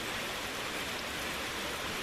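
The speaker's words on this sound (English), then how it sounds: "We got a downpour." A heavy downpour pours steadily onto a drying pond full of tadpoles, a dense, even roar of rain with no pauses and no voices.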